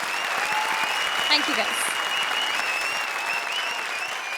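A comedy show audience applauds Kapil and Mukti in a steady, dense burst of clapping, with a brief spoken thanks over it.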